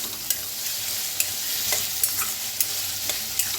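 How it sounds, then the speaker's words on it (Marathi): Spice masala and raw peanuts roasting in a pan, a steady dry sizzle broken by sharp, regular scrapes of a spatula stirring them close up, with no one talking. "भाजून घ्यायचा आहे चांगला मसाला सगळा असा भाजून घेऊया"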